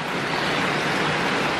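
Heavy rain falls steadily around a Honda Beat FI scooter with a faltering engine, a dense, even hiss that fills the whole moment with no talking.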